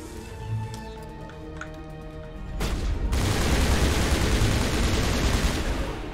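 Enemy guns fire in a Mass Effect firefight, a steady dense burst of rapid gunfire that swells after a quieter stretch of music and background tones, loud and continuous to the end.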